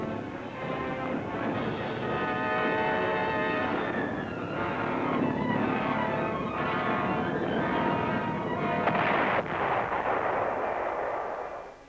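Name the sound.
anti-aircraft gun batteries firing at V-1 flying bombs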